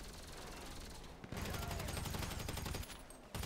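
Rapid automatic gunfire in GTA 5 Online crackles in loud, dense bursts that run almost without pause, broken once by a short gap and cut off abruptly near the end.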